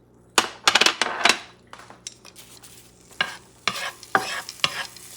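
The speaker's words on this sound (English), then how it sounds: "caramelize the onions. And I'm going to add the peppers." Onions and peppers fry in a pan for picadillo, with a soft sizzle beneath loud, irregular clinks and scrapes of a utensil stirring against the pan, close up.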